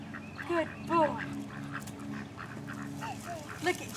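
Ducks quack in short bursts while being fed bread, several calls rising over steady background chatter and voices of people nearby.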